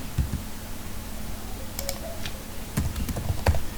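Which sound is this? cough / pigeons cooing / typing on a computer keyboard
typing on a computer keyboard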